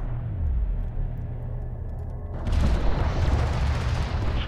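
A light attack vehicle under fire in Homeworld: Deserts of Kharak, a low rumble that swells into a louder, dense barrage of booming impacts partway through.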